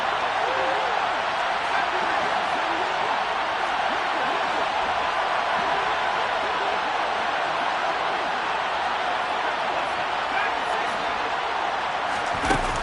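A football stadium crowd at a Rams game cheers ahead of a big third down, a dense, loud, steady roar that holds without letup for the whole stretch.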